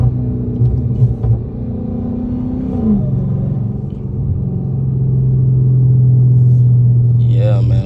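A Dodge Charger Hellcat driving with its supercharged engine, a loud low rumble that holds steady and builds into a droning tone as it accelerates, with a person talking over it early on.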